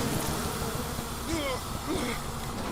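Swarming bees buzz in the BioShock video game, a steady droning hum with game ambience beneath it, moderately loud and continuous throughout.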